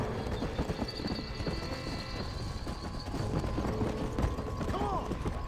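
A flaming horse gallops in the video game Red Dead Redemption: Undead Nightmare, steady rapid hoofbeats clip-clopping throughout with game effects and a brief whinny-like sound near the end.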